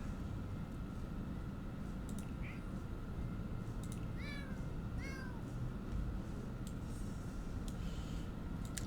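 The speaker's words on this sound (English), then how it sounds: "Buttercup is a Norwegian forest cat who is lazy, friendly, and aloof." A Norwegian forest cat in The Sims gives several short, clear meows in the middle, set against a steady game background hum and faint ticks.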